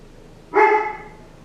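One loud dog bark sounds close by inside a home, a single sharp yelp that rings and fades quickly into a quiet room.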